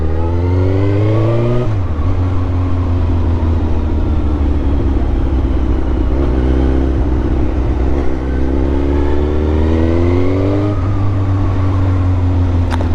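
A Suzuki GSX-R motorcycle engine runs close and loud for the whole stretch, its note sweeping up and down through repeated revs over a steady low rumble, with no talking.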